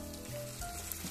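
Soy sauce dripped onto king oyster mushrooms pan-frying in butter, a brief steady close sizzle with a faint hum underneath.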